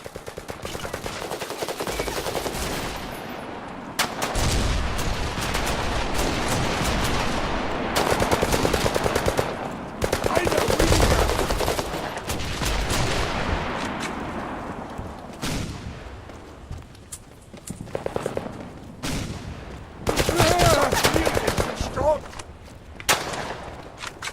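Gunfire in the video game Fog of War, with dense bursts of automatic weapon fire and shots cracking loudly through most of the stretch, with short pauses between volleys.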